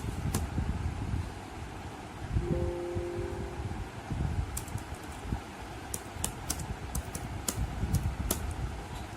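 Typing on a computer keyboard: scattered crisp key clicks and taps, close by over a low fan-like background hum, with no talking.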